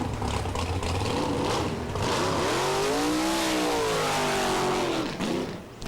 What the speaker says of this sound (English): this the classic shape of the dragster, the rail, and this is being driven by Willy Strobel